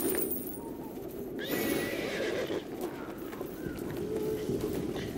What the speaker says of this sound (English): Right, I do have a horse.